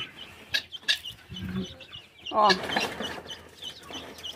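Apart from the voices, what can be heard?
chickens clucking while being fed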